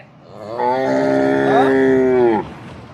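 A cow that recently calved, at a village farm in Gujarat, lets out a single long, loud, nearby moo lasting about two seconds, with no talking.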